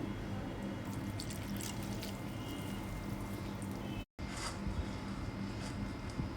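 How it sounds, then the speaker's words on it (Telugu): Water running and trickling steadily into flour for homemade calzone dough, a continuous close splashing flow with a brief cut partway through. "తర్వాత సరిపడా నీళ్లు పోసుకుందాం"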